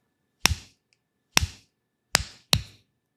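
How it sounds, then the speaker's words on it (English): Four sharp slaps on skin swatting mosquitoes ring out one at a time, crisp and close, with short silences between them and the last two coming quicker. "That's the sound of your least favorite summer sport, swatting mosquitoes as they land on you looking for a free meal."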